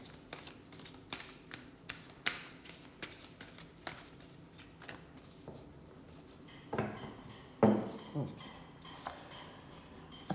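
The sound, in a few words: shuffling a deck of cards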